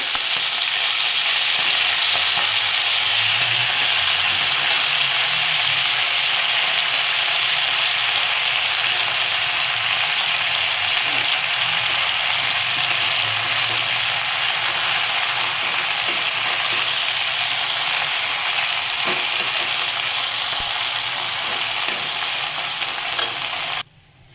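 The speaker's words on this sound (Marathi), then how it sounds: "मेथीची भाजी चांगली परतून घ्यायची आहे" Fenugreek leaves with cumin fry loudly in a pan, giving a dense, continuous sizzle close by. Faint scraping stirs sound throughout the long stretch, with no talk over it.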